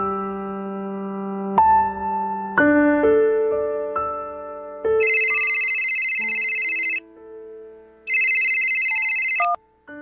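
A telephone rings during a call in a radio drama: first a sequence of loud electronic ringtone notes, then bright repeating trills in two long bursts, clear and close with no voices.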